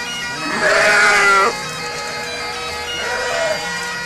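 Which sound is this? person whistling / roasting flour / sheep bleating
sheep bleating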